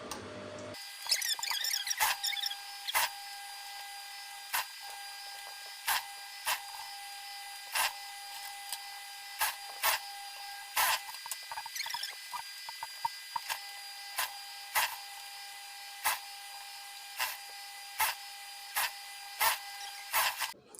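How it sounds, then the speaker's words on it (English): A sewing machine stitching a blazer sleeve, a steady mechanical whir punctuated by regular sharp clicks and brief bursts, running continuously and close by. "I'm through pinning my sleeve, so I'm going to start sewing."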